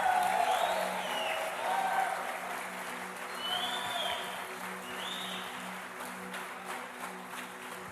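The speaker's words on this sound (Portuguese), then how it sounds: "Vamos aplaudir o Léo?" Audience applause at a business and faith seminar, a steady wash of many hands clapping that holds evenly for about eight seconds over a low electrical hum, then eases slightly toward the end.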